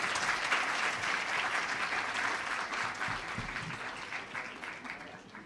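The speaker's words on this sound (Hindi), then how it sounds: "आप ताली बजा सकते हैं।" A conference audience at NED University in Karachi applauds steadily, a broad wash of many hands clapping at moderate loudness that holds evenly throughout and tapers slightly near the end.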